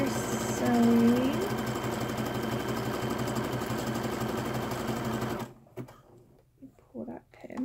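A sewing machine runs steadily for several seconds, stitching elastic onto fabric with a fast, even mechanical whir, then stops abruptly, leaving a quiet room with a few faint handling noises; someone talks over the stitching.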